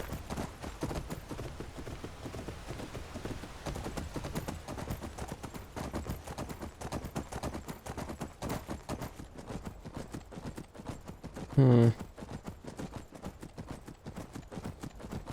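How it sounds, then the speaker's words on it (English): Horse hooves clip-clop in a rapid, steady rhythm throughout in the video game Skyrim, close and moderately loud, with a brief sharp tonal blip near the end. "Hello, forlorn horse."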